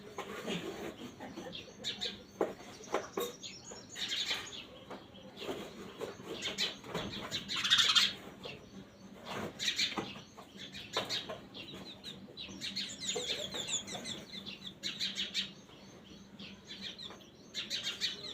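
Small birds chirping and twittering around a homemade birdhouse, bright repeated calls in bursts over a steady outdoor background, fairly close with one louder call cluster midway.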